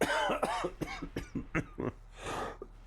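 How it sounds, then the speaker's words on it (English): Close, harsh coughing from a man during a gaming session, a cluster of several sharp coughs and throat clearing, followed by a raspy breath. "I'm so sorry about this cough."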